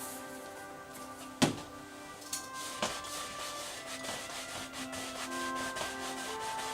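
A paintbrush smooths oil paint across a canvas in a calm seascape painting, making a steady, soft, close rubbing swish. A few light taps and knocks sound faintly against it.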